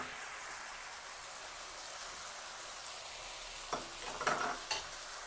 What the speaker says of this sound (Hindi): अब हम एक एक करके जो हमारी वेजिटेबल्स हैं वो हम इसमें डाल देंगे।